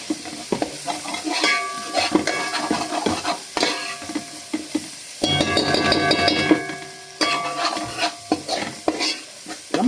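Tomato and masala sauce for fish masala stirred with a spoon in a pan, scraping and clinking strokes over a soft sizzle, with a louder bubbling burst midway, close and without talk.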